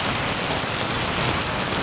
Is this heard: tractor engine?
no